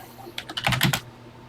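Keys pressed on a TI-99/4A home computer keyboard, a quick run of about six or seven close, crisp clacks in under a second, alone with no talk.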